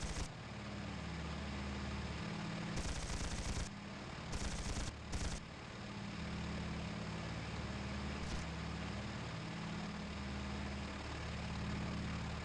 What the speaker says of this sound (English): M2 is the machine gun that is built into the bombers.